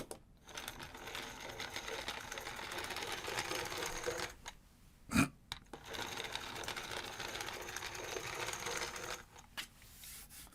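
A rolling desk sweeper with a brush runs across a desk picking up eraser shavings, making a continuous close, quiet whirring rattle with a brief pause and a sharp click in the middle.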